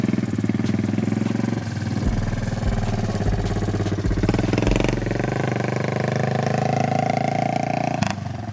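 An older four-wheeler engine revving loudly nearby, its rough mid-range roar rising and falling in several pulses over a continuous idle.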